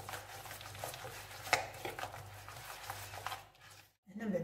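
Cake batter with sesame and peanuts worked with a spoon in a bowl, giving a steady soft scraping and knocking that stays low and close, with faint talk and a brief pause near the end.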